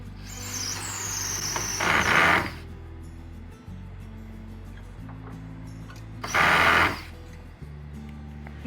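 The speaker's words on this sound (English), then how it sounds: "Now we're gonna put a screw in there." A powered driver sends a screw into a wooden bed frame in two short, loud bursts of whirring several seconds apart, with a lower mechanical hum between them.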